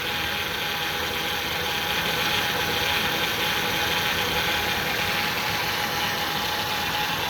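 A 2000 Ford Windstar SEL engine running at a rough idle with a new distributor, cap and rotor, a steady close mechanical drone with an uneven ticking texture.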